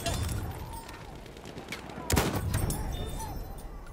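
Gunshots crackle across a Battlefield 1 battlefield in a dense, ongoing fusillade. One sharp, louder shot stands out mid-way among the continuous scattered fire.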